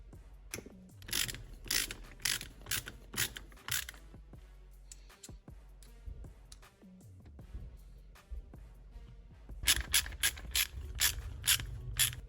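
Ratchet and screws tightening down parts on an ARRMA Kraton 6S differential, with bursts of fast clicking ratchet strokes and metallic handling noises at close range, loudest at the start and end.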